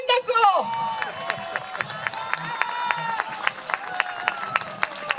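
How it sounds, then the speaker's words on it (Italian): Outdoor crowd at an Epiphany Befana festival in Adria applauding the mayor, scattered clapping and cheering over a bright ringing tone, with voices mixed in. "un applauso al sindaco"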